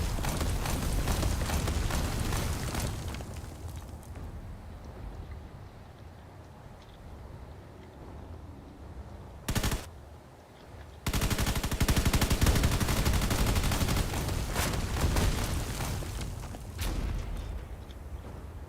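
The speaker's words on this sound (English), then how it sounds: "Field cannons are already starting to get into battle here." Field cannons firing in a Space Engineers battle, dense rapid bursts of heavy gunfire and booms, loud at first, easing to a lower rumble, then a sharp blast and a renewed loud barrage.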